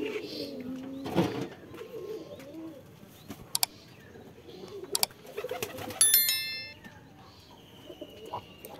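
Pigeons coo softly inside a pigeon loft, with a few sharp metallic clanks and brief chirps scattered between the low, close calls.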